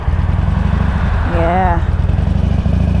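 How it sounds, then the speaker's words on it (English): A Harley-Davidson Sportster motorcycle engine with a new exhaust idles close by with a steady, even low rumble, and a voice speaks briefly over it. "It definitely was not idling this smooth before."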